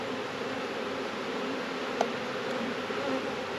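Honeybees hum steadily around an open, rather agitated farm hive, a dense continuous drone close by with one faint click partway through and no voices.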